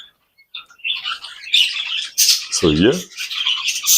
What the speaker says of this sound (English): And the birds singing away in the background.